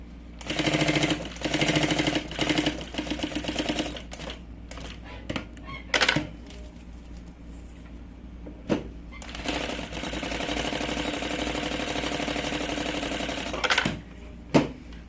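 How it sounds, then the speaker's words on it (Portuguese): A sewing machine stitches the fabric lining of a triple pencil case in loud, close bursts of rapid mechanical whirring, pausing briefly and then running steadily again, with no talk. "aqui já pode passar a costura pra segurar o forrinho"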